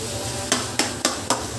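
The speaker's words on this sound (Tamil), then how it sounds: "தக்காளி சேர்த்துட்டு ஹை ஃப்ளேமில் 2 நிமிஷம் போல் வதக்குங்க" Tomatoes sautéing over a high flame for quail biryani, a low sizzle beneath four evenly spaced sharp stirring knocks of a utensil against the pan.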